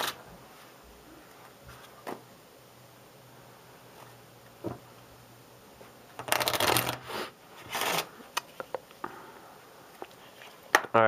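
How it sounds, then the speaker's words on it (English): Playing cards riffle-shuffled together during a mentalism card trick, quiet handling and small taps followed by two brisk, loud bursts of riffling, with no voice heard. "go ahead and shuffle them into each other"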